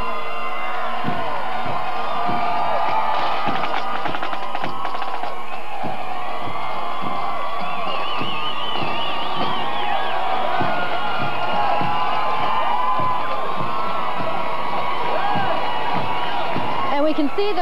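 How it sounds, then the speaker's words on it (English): A large street crowd cheers and whoops along a parade route for a Toronto Blue Jays World Series celebration, loud and sustained, with a commentator talking over it. "Here they come, the crowd's cheering."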